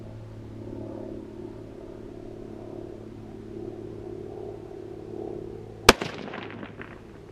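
A single sharp rifle report from a Ruger American Predator in 6.5, one loud crack near the end after steady low background noise, with a brief ringing decay.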